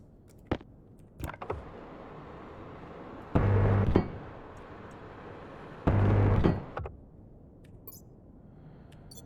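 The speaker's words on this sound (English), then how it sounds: "So let's get these welded up." Welding of iron sheets in the Stationeers video game, heard as two sustained hissing bursts of about half a second each, loud and close, separated by quieter clicks and light tapping.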